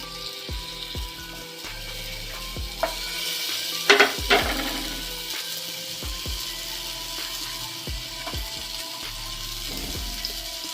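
Salted, turmeric-coated tomatoes dropped into a hot pan, a faint steady sizzle with scattered clicks and a short clatter of stirring partway through.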